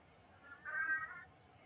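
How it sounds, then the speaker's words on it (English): A single house cat meows once, faint and a little distant, a drawn-out cry of about half a second rising out of a quiet room. "And I don't know if you guys can hear that, but that's my cat."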